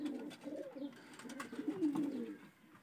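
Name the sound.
Murshidabad pigeons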